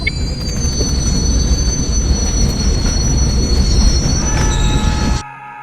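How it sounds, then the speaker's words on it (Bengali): A train arrives in the Indian Bike Driving 3D game, its wheels rumbling loudly and continuously with long high metallic screeches of squealing brakes running throughout, until the sound abruptly cuts off near the end. "তো ওই দেখো তোমরা দেখতেই পাচ্ছ ট্রেন চলে এসেছে।"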